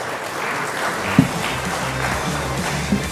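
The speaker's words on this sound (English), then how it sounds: "A round of applause." Audience applause at an NDTV green fuel event, a steady patter of many hands clapping at moderate volume with a couple of brief louder knocks.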